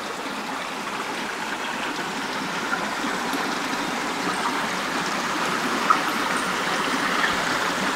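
A stream of water flowing in the open countryside, a soft, steady rushing and trickling that continues evenly throughout, with no one speaking.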